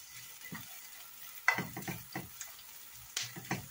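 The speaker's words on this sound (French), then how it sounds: "je vais faire revenir en premier les oignons et ensuite le butternut coupé en petits morceaux" Onions are sautéed in oil in a frying pan as a butternut squash lasagna is prepared, with soft sizzling broken by a few sharp stirring scrapes and clicks, fairly quiet and without talk.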